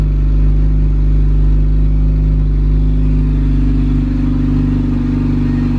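A sleeved Honda GSR B18 engine runs on a dyno in a cold state, producing a loud, steady, low idle drone with a faint clattering edge that holds without pauses and without voices.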